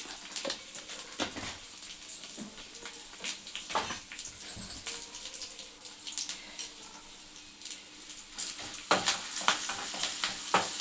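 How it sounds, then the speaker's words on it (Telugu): Curry leaves, turmeric, cumin and garlic sizzle and crackle in hot oil as a tempering for Warangal-style pachi pulusu, with a steady close frying hiss broken by sharper pops and bursts of spattering. "ఇవన్నీ కొంచెం మంచిగా వేగాలి జీలకర్ర వెల్లిగడ్డ అన్నీ వేగిన తర్వాత"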